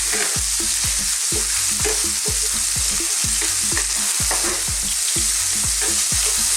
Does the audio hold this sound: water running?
no